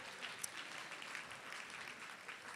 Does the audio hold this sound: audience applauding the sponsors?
yes